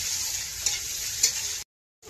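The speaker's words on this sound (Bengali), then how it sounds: "পেঁয়াজটা একটু ভেজে নেব" Chopped onion frying in a pan, a steady hiss of sizzling oil with a couple of stirring scrapes, close and even, cutting off abruptly into brief silence near the end.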